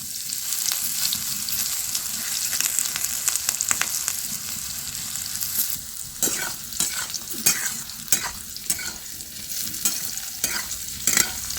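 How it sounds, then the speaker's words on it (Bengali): Vegetables sizzle and crackle as they fry in hot oil for a vegetarian bitter curry, a steady hiss broken by scraping stirs of a spatula, close and alone. "এগুলো ভালো করে ভেজে নিতে হবে।"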